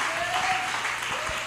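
Church congregation applauding during a sermon, a steady dense wash of clapping throughout with a faint tonal hum and a few louder claps near the end.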